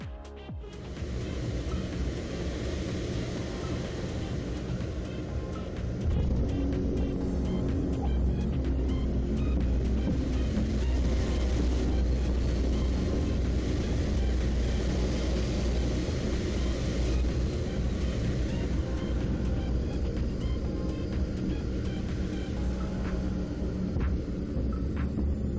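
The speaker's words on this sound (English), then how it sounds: "landing multiple aircraft simultaneously requires extraordinary skill" Several aircraft land at the same time, producing a loud, continuous engine roar and low rumble that swells and holds steady throughout.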